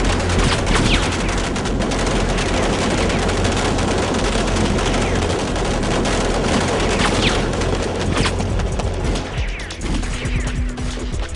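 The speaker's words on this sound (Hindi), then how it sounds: "सब एक साथ फायर करो।" Dense, sustained gunfire in an action movie scene, many weapons firing together in a loud continuous barrage of overlapping shots and crashes that eases slightly near the end.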